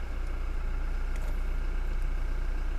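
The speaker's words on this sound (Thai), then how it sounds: "สตาร์ทเครื่องยนต์นิ่มๆ" A 2016 Toyota Fortuner 2.4 V automatic SUV engine runs at a steady, smooth idle just after starting, a constant low hum close by with no voices.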